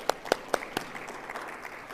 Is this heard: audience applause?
yes